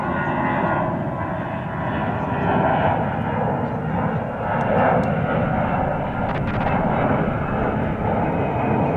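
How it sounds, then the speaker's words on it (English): An American Airlines jet airliner on approach to DFW Airport produces a loud, sustained engine roar that swells slightly midway and stays strong throughout, heard outdoors. "You may have just heard it, American Flight 280 coming in from Incheon Airport in Seoul is about 2 minutes away."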